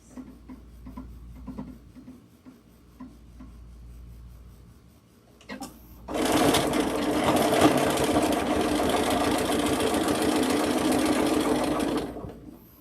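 A sewing machine topstitches a tote bag, starting after quiet handling and then running loud and steady for about six seconds at a longer stitch length, close up and alone.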